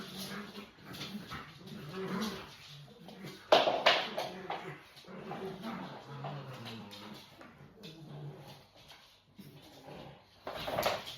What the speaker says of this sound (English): that's Callie in the background with her bone. She wants me to play